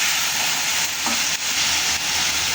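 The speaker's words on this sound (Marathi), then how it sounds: "आता इथं बारीक कट करून घेतलेलं टमाटे टाकून घ्यायचं टमाटर जास्त परतायची गरज नाही" Finely chopped tomatoes sauté in a hot pan, giving a loud, continuous sizzle close by, with a couple of brief stirring scrapes and no voices.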